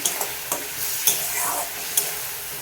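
Spices being sautéed and stirred in a pan for a home-style cauliflower, pea and potato dish, with a steady sizzle and several sharp scrapes of the spoon against the pan.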